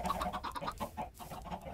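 A Minecraft chicken clucks in a rapid series of short, rhythmic clucks, close but quiet, with no talking over it.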